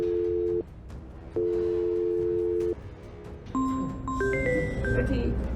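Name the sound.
telephone ringing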